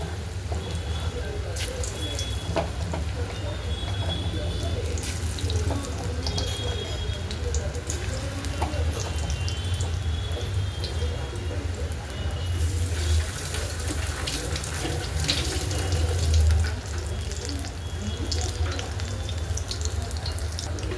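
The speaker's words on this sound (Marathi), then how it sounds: "इथं आपलं तेल तापलेलं आहे छान असं. आता आपण ह्याच्यात भजी पण सोडून घेऊया." Onion bhaji fry in hot oil with a steady, loud hissing sizzle that runs unbroken throughout, while someone talks quietly over it.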